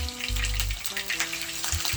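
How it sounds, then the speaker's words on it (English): King fish slices frying in a pot, a steady close sizzle with brief bursts of crackling as more slices go into the hot oil, no voices. "so I'm start frying my fish"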